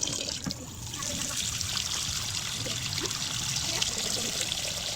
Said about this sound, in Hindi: 2 गिलास पानी लेंगे ताकि वो जल्दी से बॉयल हो जाए